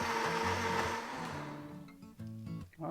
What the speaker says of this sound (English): we'll just put it onto the blender